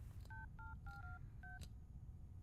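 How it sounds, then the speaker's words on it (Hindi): Telephone keypad dialing, five quick two-tone DTMF beeps in an uneven rhythm, fairly faint over a low background hum, no talking. "जिग्नेश को फोन करता हूँ"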